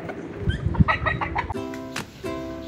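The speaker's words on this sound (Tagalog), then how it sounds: "Ito na yung ating cockhouse ng mga pinapahingang manok" Roosters and hens in a cockhouse where gamefowl rest, clucking and squawking close by in overlapping bursts, followed by drawn-out harmonic crowing calls.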